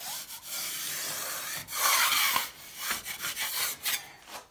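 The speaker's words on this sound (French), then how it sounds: "On gratte tout ce qui dépasse." Excess plaster being scraped off a metal wall corner with a tool: close, harsh rasping strokes, first one long continuous scrape, then a run of shorter, choppier passes.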